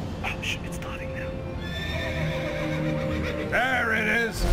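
A horse neighs loudly in a fantasy online game cutscene, a rising, wavering whinny near the end, with a voice talking over soft background music.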